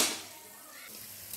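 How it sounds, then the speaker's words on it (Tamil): Mustard seeds go into hot gingelly oil in a clay pot while cooking chicken, giving a soft, steady frying sizzle that stays fairly faint throughout. "இப்போ எண்ணெய் காஞ்சிருச்சுங்க, தாளிக்கிறதுக்கு தேவையான அளவு கடுகு சேர்த்திக்கலாம்."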